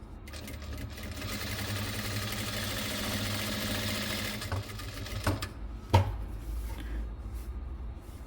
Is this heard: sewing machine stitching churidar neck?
yes